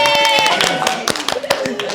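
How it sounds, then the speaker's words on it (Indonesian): Classroom clapping for a student, a loose burst of hand claps with distinct individual claps standing out, near and fairly loud, with children's voices talking over it. "Oke, tepuk tangan dulu buat Asmi."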